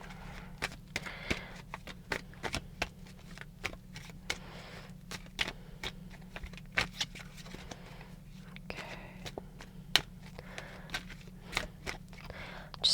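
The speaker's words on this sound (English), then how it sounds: "Just don't want to stop shuffling cards for some reason." Tarot cards being shuffled by hand, a long run of rapid, irregular crisp riffles and flicks close up, with a faint low hum beneath.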